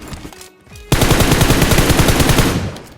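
Rapid automatic gunfire from a teammate in BGMI (PUBG Mobile), a loud, dense burst of evenly spaced shots that starts abruptly and holds steady to the end.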